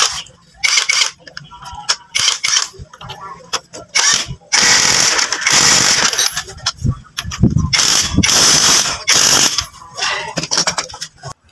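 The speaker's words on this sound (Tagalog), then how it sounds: "pihitin natin ng pakaliwa, dapat free wheel po yan" Honda Fury 125 one-way clutch turned by hand so it freewheels, giving rapid mechanical clicks and ratcheting rattles in short bursts, close up, while someone talks over them.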